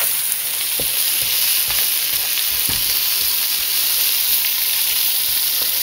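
Spinach sautés in a hot pan with a loud, steady sizzling hiss, occasionally stirred, heard close up without any talking.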